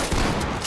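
A breacher shotgun fires in the tactical shooter Ready or Not, a loud, harsh blast of gunfire that fills a burst of under a second.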